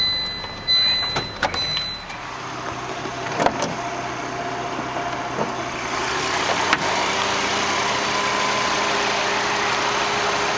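A 1999 Volvo S70's turbocharged 2.4-liter inline-five idles steadily under an open hood, with a few light clicks and knocks near the start and a slight rise in level partway through.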